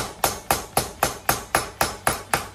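A brass hammer strikes a part of a 1600cc Type 1 VW engine during a rebuild, about ten sharp, evenly spaced metallic blows, close and loud with no talking.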